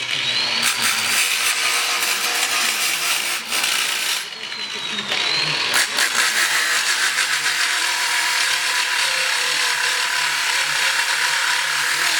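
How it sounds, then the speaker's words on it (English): An angle grinder cleans metal on a 2010-2015 SS Camaro while a wideband O2 sensor bung is installed, giving a loud continuous grinding rasp with short pauses and scraping shifts in pitch. "I need to get the grinder too. Clean that shit off a little bit before."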